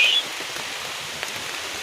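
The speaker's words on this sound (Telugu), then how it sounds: "వాన పడుతుందిరా." Rain falling steadily in a reserve forest, a soft continuous patter with a brief louder burst at the start and no voices.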